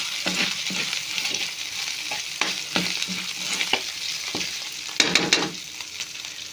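Squash and string beans sautéing in a pan, with a soft sizzle broken by repeated clacking utensil stirs at an irregular rhythm and a burst of scraping near the end.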